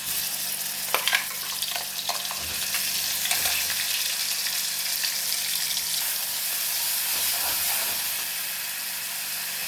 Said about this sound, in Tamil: இப்போ நம்ம அரைச்ச இந்த வெங்காயம், பச்சை மிளகா போடலாம்